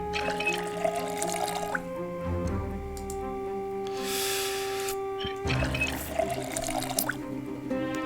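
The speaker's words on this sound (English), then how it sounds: "Fill empty bottle first" Water filling an empty bottle in the Project Zomboid video game, with a broad rush of pouring liquid in the middle of the clip over a steady bed of background music.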